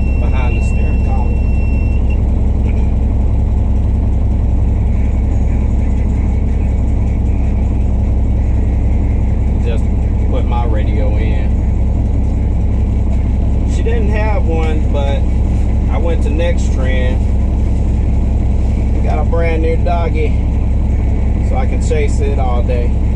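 Truck engine idles steadily in the cab with a constant low rumble while air pressure builds; someone talks over it intermittently.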